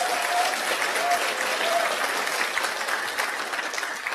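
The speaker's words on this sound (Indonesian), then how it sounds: "tepuk tangan dong gitu" An audience at a business talk breaks into steady applause, a thick, continuous patter of many hands close by, with a faint voice briefly audible early on.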